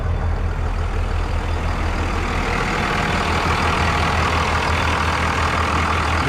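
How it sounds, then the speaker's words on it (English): A Cummins diesel bus engine idles close by, a loud, steady low rumble with an even, smooth beat throughout. "You hear how nice she runs, hey? These Cummins engines, best engines on the planet."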